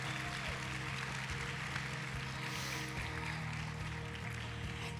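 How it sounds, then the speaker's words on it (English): Applause from an audience at the 2021 Hudson Ambassador Coronation, a steady, dense wash of clapping that runs unbroken through the whole stretch at moderate loudness, with faint background hum beneath it. "let's give them another round of applause for an amazing year spent serving Hudson"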